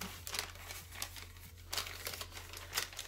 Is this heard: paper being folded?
yes